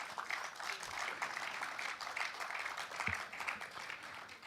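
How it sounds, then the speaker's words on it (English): Audience applause for a filmmaker welcomed to the dais at an international documentary film festival, a fairly quiet, steady patter of clapping throughout with faint voices mixed in. "Please give him a big round of applause"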